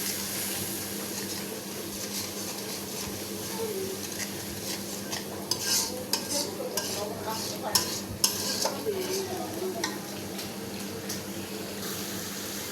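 Spice paste of salt, turmeric, chili, coriander, cumin and panch phoron powder cooking down in oil for a Bengali mustard tilapia bhuna, with a steady soft sizzle and scattered clinks and scrapes of a spoon against the pan.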